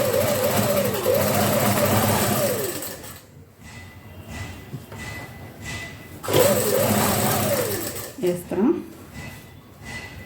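A sewing machine stitches a shirt sleeve with a double line of stitching, its whirring motor running in two bursts separated by a pause, while a person talks throughout.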